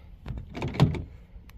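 A Honda car's door locks actuate on a remote press after the doors are shut, a short close mechanical clunk-and-whirr lasting about a second, alone.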